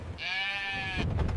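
A sheep bleats once, a loud, clear, wavering call held for about a second, followed by a short low rumble.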